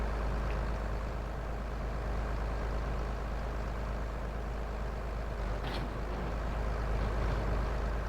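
A New Holland 8360 tractor engine in the Farming Simulator 22 video game drones at a steady idle throughout, a constant low rumble with no talking over it.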